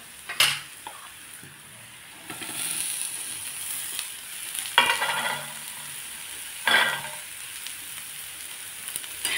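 Onions sauté in a pan for Khandeshi bitter gourd curry, a steady sizzle punctuated by three sharp scraping clatters of a spatula against the pan, close and fairly quiet, with no voices.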